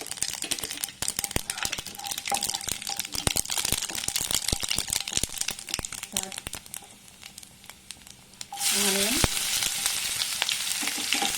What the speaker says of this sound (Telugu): ఇప్పుడు మనం సాజీరా, 1 స్పూన్ సాజీరా వేద్దాం.